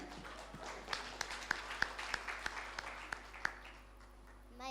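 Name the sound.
audience applause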